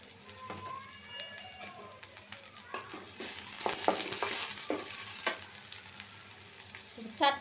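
Garlic, onion and green chillies fry in hot oil with a steady, close sizzle, broken by a few scraping stirs and small spattering pops that grow louder toward the end; no one speaks.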